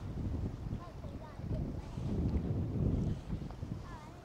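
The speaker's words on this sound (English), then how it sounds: "Really windy today." Strong wind blowing outdoors by the water on an overcast day after rain, buffeting the microphone in a steady low roar that swells and eases, with faint voices mixed in.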